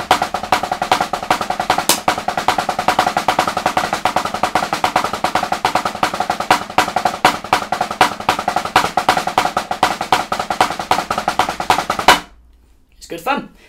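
Fast drum paradiddle warmup with shifting accents, a dense, steady stream of close, loud strokes for about twelve seconds that stops abruptly, followed by a brief quiet tail.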